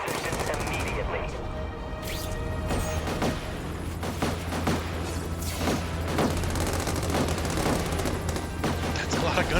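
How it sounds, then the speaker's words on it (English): Heavy gunfire rattles through a battle scene in The Amazing Spider-Man 2 video game, rapid bursts and booming shots near and loud over a constant low rumble. "That's a lot of gunfire."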